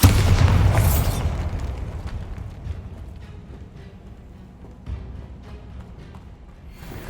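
In Hogwarts Legacy, a Bombarda blasting spell bursts with a loud, close boom, then decays into a rumbling tail and game ambience, with a smaller thump partway through.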